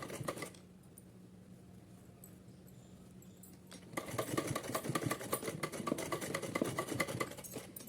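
A sewing machine runs a straight stitch along the waistband of small cotton deity clothing, starting quietly with a brief hum, then whirring louder and steadily for the last four seconds, close up.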